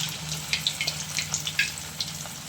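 Homemade chicken kabab pieces, spooned into hot oil, fry with a steady sizzle and scattered close popping crackles.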